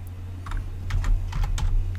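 Brief burst of typing on a computer keyboard, a few quick clustered keystrokes over a low steady hum, close and fairly quiet.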